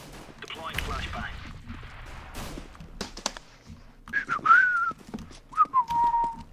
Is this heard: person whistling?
yes